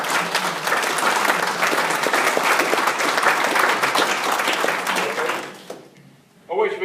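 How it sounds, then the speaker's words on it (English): Loud, sustained audience applause fills a civic hall during a Cullman city and county address, a dense wash of clapping lasting over five seconds before dropping away, then a voice begins speaking at the end. "Again, give them a round of applause."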